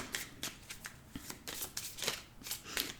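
A deck of fine, high-quality fortune-telling cards is riffled and shuffled up close, giving quiet, quick papery flutters and taps in an uneven rhythm.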